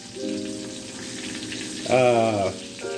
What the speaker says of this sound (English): So let's go ahead and flip these patties over